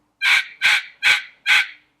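Hand-squeezed turkey reel call producing four evenly spaced, sharp yelps, each a short bright note that tails off, loud and close with silence between.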